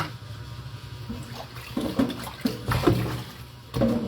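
Running water from a tap while bitter gourd leaves are washed by hand in a home kitchen, a close splashing flow with some louder bursts and handling noises.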